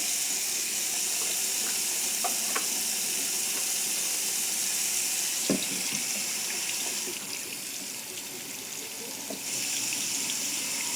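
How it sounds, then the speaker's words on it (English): Cool water runs steadily from a tap into a sink for washing a wig, a constant close hiss and splash with a brief dip in flow partway through. "So what I do is I run cool water."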